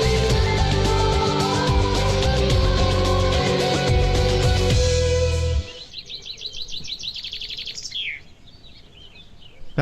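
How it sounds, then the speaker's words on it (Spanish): Birds sing outdoors, bright chirps and tweets coming through at first beneath a loud, dense musical din, then heard more clearly on their own as repeated quick trills. "aire puro, aire fresco, los pajaritos cantando"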